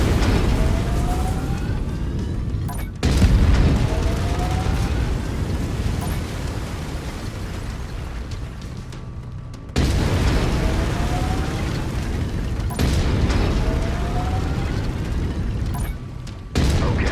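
Autocannon fire from a mech in MechWarrior 5: Mercenaries, heavy booming bursts over a constant loud mechanical rumble, with sharp breaks near three, ten and sixteen seconds.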